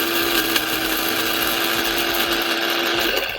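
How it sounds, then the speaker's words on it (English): An electric coffee grinder grinds spices in a loud, steady, continuous whir that holds at an even level, with a faint hum running through it and no voices. "This is actually a coffee grinder, but it's perfect for grinding spices."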